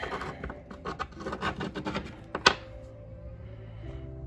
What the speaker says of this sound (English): Getting them all shined up. Kind of hard to get the rust that's down inside there